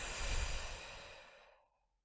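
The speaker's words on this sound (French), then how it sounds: "Et puis soufflez fortement pour évacuer vos blocages" A single strong, breathy exhale during a guided relaxation breathing exercise, released after a held breath. The rushing air is loud at the start and fades smoothly to silence.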